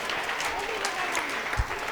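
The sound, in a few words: applause for quiz team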